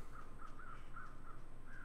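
Crows in the wintry survival game The Long Dark give a series of faint, distant caws in an irregular rhythm over a quiet windy hush.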